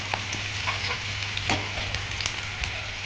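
Ivy gourd pieces frying in a pan over a medium flame, giving a steady soft sizzle with faint crackles and occasional stirring clicks, close and alone.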